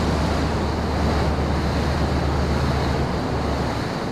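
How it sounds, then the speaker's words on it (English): Surf from waves breaking on a reef two hours offshore, heard as a steady, loud roar of water mixed with heavy wind buffeting the microphone, with no voices. "2 hours offshore, we see waves breaking on a reef."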